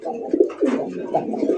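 A Madrasi Golla pigeon coos in a series of low, throaty, rolling calls, close and fairly loud, repeating a few times over a brief stretch.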